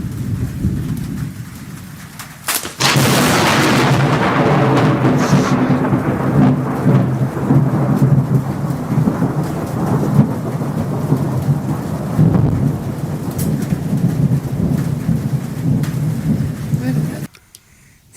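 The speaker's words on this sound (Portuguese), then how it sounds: "gravou, sem perceber que ia receber uma descarga elétrica" A thunderstorm near an antenna: a sharp, loud thunderclap breaks in, then heavy rain pours steadily and close, with low rumbling beneath, before cutting off abruptly.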